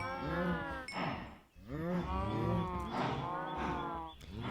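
Cows in the Minecraft video game, played with the FTB Omnia modpack, moo repeatedly in overlapping, drawn-out calls that run almost without a break.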